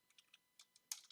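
A computer keyboard being typed on, a handful of quiet, close, irregular key clicks ending in one sharper tap, with no talking.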